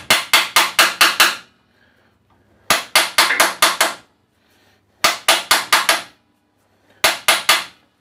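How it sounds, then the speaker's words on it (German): Sharp metallic hammer blows knock screws out of an Altendorf saw table insert, coming in rapid bursts of four to six ringing strikes separated by short pauses. "Die lösen sich, aber die werde ich da wohl alle so mit dem Ding da rauskloppen müssen"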